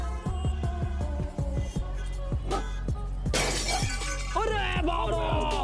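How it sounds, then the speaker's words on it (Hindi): A car's window glass shatters in a sudden bright crash, preceded by a run of sharp rhythmic knocks and followed by scattered tinkling debris, with voices and other noise underneath. "पर अपनी ही गाड़ी का शीशा तोड़कर आ गए।"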